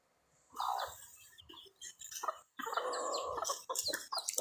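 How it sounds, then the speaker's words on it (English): A rooster crows and clucks repeatedly in a mix of fowl calls, loud and close, in a few bursts with short gaps between them and no talk over them. "did I just hear a chicken? I heard a cock."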